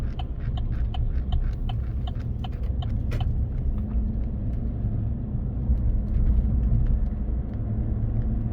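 Road traffic passes on a quiet street in the Philippines, a steady broadband rumble that swells slightly, with a rhythmic clopping or ticking layered over the first few seconds.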